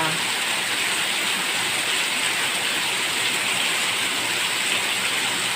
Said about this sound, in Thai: ดูฝนตกกันนะคะฝนตกกันบ้าง